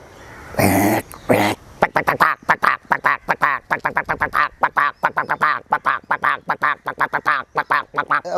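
A human voice imitates a duck, opening with two longer honking calls and then a rapid, close, loud run of short, nasal quacks.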